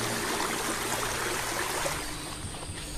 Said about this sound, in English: begins to fill with water